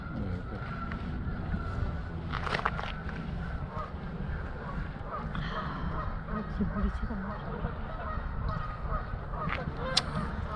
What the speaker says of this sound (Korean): 지금 거위가 저 새, 거위 소리죠 저거